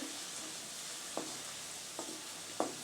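Chili powder fries in hot oil while being stirred for a village-style fish curry: a steady soft sizzling hiss with three brief scraping strokes of a spoon against the pan.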